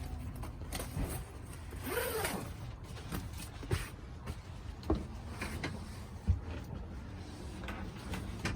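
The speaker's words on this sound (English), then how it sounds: "when I'm undoing the zippers, I only like to come up to about this line here." Zippers are pulled open on a 2019 Clipper 125ST camper, giving a scratchy rasping slide with several sharp ticks and knocks over an outdoor background.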